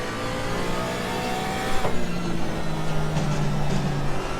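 A Porsche Cayman GT4 race car in Assetto Corsa Competizione revving hard, the engine note climbing and shifting through gears, loud and steady with no talk over it.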